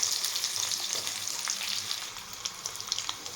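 Ginger garlic paste fries with biryani spices in hot oil, a steady bright sizzle with occasional small pops and stirring scrapes, close and continuous with no voices.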